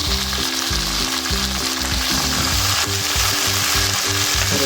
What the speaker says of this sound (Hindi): ये टमाटर हमारे आधे तकरीबन भुन चुके